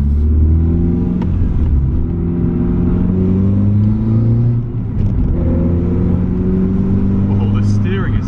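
A Renault Clio 182 Cup engine revs while driving, with a steady close interior drone that climbs in pitch through the gears, dips briefly, then rises again.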